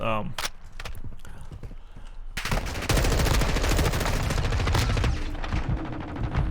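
Video game gunfire breaks out in rapid automatic bursts, sparse at first and then a dense, loud stream of rounds, with a person talking over it.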